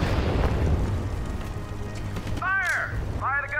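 An artillery gun firing in the World War II strategy game Sudden Strike 4, set on Iwo Jima: a heavy, rumbling boom fills the opening seconds, followed by sharp cawing bird-like calls.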